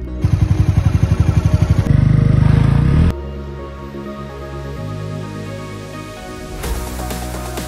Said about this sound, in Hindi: ये बाइक है डोमिनार 250